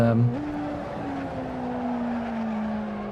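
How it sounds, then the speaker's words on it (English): A road-tyred race car squeals its tyres through a corner, a sustained pitched whine sliding upward then holding steady over engine noise, with a brief louder burst at the start. "you want a bit of squealing tires, especially in a car like this"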